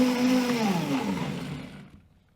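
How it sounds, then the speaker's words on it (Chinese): Kitchen blender whirring as it purees scallions, fresh ginger and water into ginger-scallion water, a steady motor drone with a slight pitch shift that winds down and stops partway through. "准备适量的小葱、生姜、清水放入料理机中打成姜葱水"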